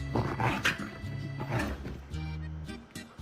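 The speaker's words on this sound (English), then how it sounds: "What the dog doing?" A dog in the video game Wuthering Waves makes growling, roaring vocalizations over dense game audio and low droning tones, fairly loud and continuous across a few seconds.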